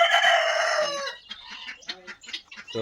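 A rooster crows loudly for about a second, followed by a busy stretch of hens clucking and chattering close by.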